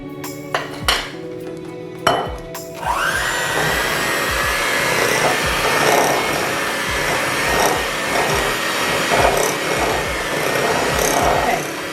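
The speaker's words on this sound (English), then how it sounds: "let me get our mixer going" An electric stand mixer creaming pound cake batter for a lemon raspberry vodka cake, starting after a few clanks and then whirring steadily with a rhythmic churning hum, close and fairly loud.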